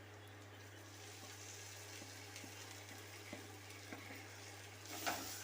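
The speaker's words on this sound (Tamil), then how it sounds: "திரும்ப இதை வதக்கி விட்டுக்கலாம் கொஞ்சம் நேரம்." Onions sautéing with chili powder in hot oil, a faint steady sizzle with soft stirring scrapes and light taps, growing briefly louder near the end.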